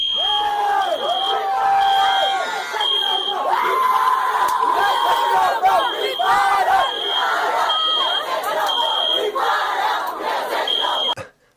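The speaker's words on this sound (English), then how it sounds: "somebody pulled the fire alarm to stop this" A fire alarm beeps in regular repeating tones over a loud, shouting crowd of protesters on the UC Berkeley campus at night, the chanting and yelling dense and continuous beneath the alarm.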